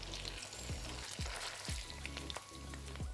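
Tofu pieces for agedashi tofu fry in a pan with a steady, close sizzle, broken by a few soft knocks and scrapes as pieces are turned over.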